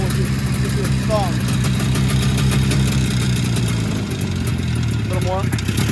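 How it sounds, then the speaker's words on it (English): The engine of an Arctic Cat Jag 3000 snowmobile, a barn find, idles loud and close with a steady rumbling drone held at a little throttle, while voices briefly speak over it. "Give a little throttle. Hold it where it'll idle with your thumb."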